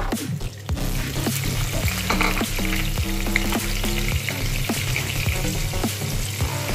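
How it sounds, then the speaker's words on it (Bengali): Paneer pieces fry in hot oil for a mustard paneer besara with a loud, close, bubbling sizzle, crackling pops and spatula clinks. The sound stays dense and steady with no voices. "পনিরগুলো আমি এক এক করে দিয়ে দিচ্ছি। হালকা ব্রাউন করে আমি ভেজে নেব।"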